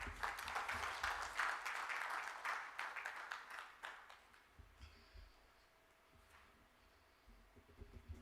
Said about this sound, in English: let's welcome him warmly with a round of applause